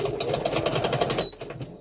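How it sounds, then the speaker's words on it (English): A sewing machine stitches in a rapid, even mechanical chatter that is close and fairly loud, then cuts off abruptly near the end with a few isolated clicks after. "my sewing machine had a moment"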